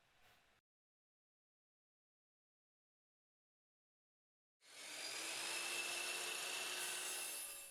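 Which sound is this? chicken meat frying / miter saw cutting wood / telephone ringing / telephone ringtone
miter saw cutting wood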